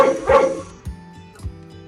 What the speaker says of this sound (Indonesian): Saya klik anjing, muncul gambar dan suara anjing.